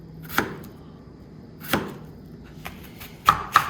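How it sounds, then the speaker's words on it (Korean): Potatoes are chopped with a knife on a cutting board in a home kitchen, a few sparse, crisp knocks spaced irregularly, close and fairly clear against a quiet background. "감자를 깎아 오겠습니다. 썰어놓고 썰어놓고"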